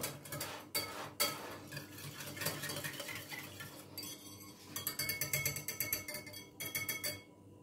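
A spoon or whisk stirs quiche filling seasoned with salt and nutmeg in a bowl, making a steady run of quick clinks and scrapes against the sides that turns faster and more rhythmic toward the end, close and fairly quiet.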